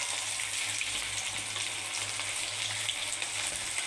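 Chicken leg pieces frying in oil with spices, a dense, steady close-up sizzle and crackle with faint stirring underneath.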